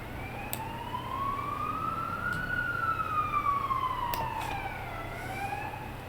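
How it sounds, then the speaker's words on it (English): An ambulance siren passes outside, its wailing tone rising and falling steadily, moderately distant and clear above a low background hum, with no one talking. "you don't get many ambulances this side of town"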